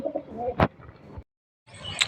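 Pigeons coo softly in short bursts, with a sharp flutter or clatter and a brief pause before more cooing.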